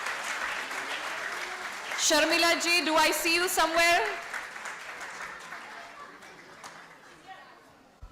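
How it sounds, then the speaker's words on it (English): An indoor crowd at a Diwali gathering claps for the decorating team, a short burst of applause rising under a voice and fading as chatter continues. "Can I please have a big round of applause for the decorating team?"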